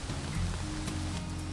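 Heavy monsoon rain pours at Matheran, a dense, continuous wash of sound with no voices, steady and close throughout.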